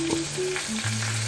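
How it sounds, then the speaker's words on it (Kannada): A brief, even sizzle of potatoes cooking in oil on a low flame for a Konkani-style potato fry, with a faint tune playing beneath the crackle. "ಇವಾಗ ಇದನ್ನು ಎಣ್ಣೆಯಲ್ಲಿ ಸಣ್ಣದಾಗಿ ಇಟ್ಬಿಟ್ಟು ಹಾಗೆ ಕೈ ಆಡಿಸ್ತಾ ಇರಬೇಕು"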